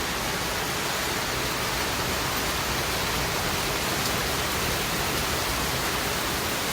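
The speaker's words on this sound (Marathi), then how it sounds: "मस्त जोरात पाऊस सुरू झालेला आहे विजा पण गरजत आहेत" Steady, dense hiss of heavy rainfall pouring down without a break, loud and close, with no voices.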